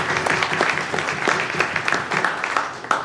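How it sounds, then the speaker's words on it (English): A room full of people claps in steady applause for a top-ranked Air Force unit, dense and close, with a voice faintly audible beneath the clapping. "Give that a round of applause."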